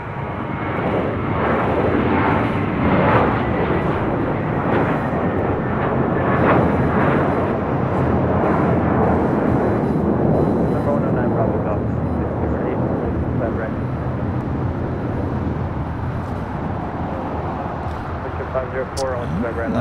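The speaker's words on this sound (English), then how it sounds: "next departure here on the south side, JetBlue Airways flight 524 heading to JFK" JetBlue Airways Airbus A321 taking off from LAX on the south side, a loud sustained jet roar that holds steady and slowly fades, with a voice talking over it.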